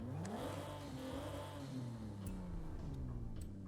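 Mitsubishi Pajero Mini fitted with a 4G63 engine in the Forza racing game, revving continuously with rising and falling pitch, loud and steady throughout with no voices.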